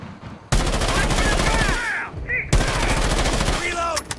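Loud bursts of automatic gunfire in the tactical shooter Rainbow Six Siege, two sustained volleys separated by a short gap, with faint voices and game sounds between them.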